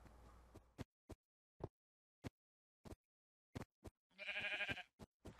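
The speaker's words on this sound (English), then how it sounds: "Get out of here, sheep!" A sheep in the Minecraft video game bleats in short, separate clipped calls spaced through the moment, punctuated by one longer, louder blast of game sound near the end.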